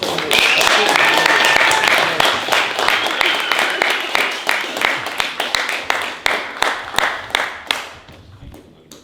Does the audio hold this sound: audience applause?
yes